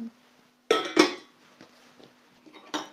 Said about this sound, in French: On va retirer le steamer sur la casserole